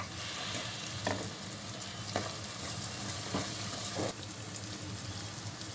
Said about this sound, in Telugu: ఫ్రై అయ్యే వరకు కలుపుతూ ఉండాలి